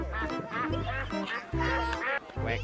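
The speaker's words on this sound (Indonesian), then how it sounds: "Wow, di sini ada bebek." A duck quacks loudly and close, a series of nasal harmonic calls in quick bursts with short pauses between them.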